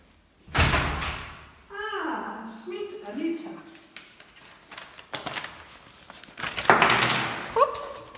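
A number-code key safe opens on a late arrival at Akademie Heiligenfeld, with short electronic beeps followed by a loud clunk, metallic rattles and the thud of the small door, all close by.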